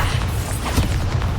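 Bombarda and Confringo blasting spells explode in Hogwarts Legacy, a dense, continuous rumble of booming blasts with crackling debris that runs without pause, loud and close.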